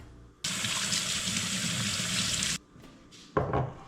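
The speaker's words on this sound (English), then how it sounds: "But first, we need to wash our hands." Tap water gushes loudly from a faucet for about two seconds while hands are washed before cooking, then stops, followed by a short second burst of running water.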